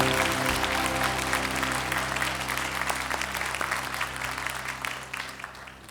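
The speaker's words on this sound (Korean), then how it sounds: "우리 다시 한번 축복의 박수를" A church congregation gives a sustained round of applause at a Sunday service, a dense, even wash of many hands clapping that slowly fades near the end.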